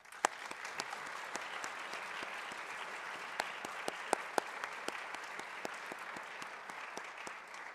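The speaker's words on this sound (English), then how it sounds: "Let's give them a round of applause." An audience at a Saint Johnsbury Academy ceremony applauds new inductees with a steady, moderately distant wash of clapping. Sharper individual claps stand out now and then, and no one speaks.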